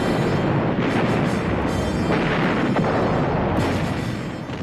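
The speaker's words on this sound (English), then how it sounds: "Penguin's guns opened up." Heavy naval guns aboard the German raider Penguin fire in a sustained, thundering barrage, loud and dense with overlapping booms and rumble and no voices over it.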